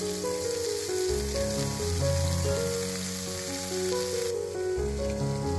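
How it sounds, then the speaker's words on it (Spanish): Prawns sizzle in a frying pan beside opening mussels, a steady crackling hiss that stays fairly quiet and continuous, with light clinks of utensils and a sharper burst of frying near the end. "Y ponemos las gambas en la sartén."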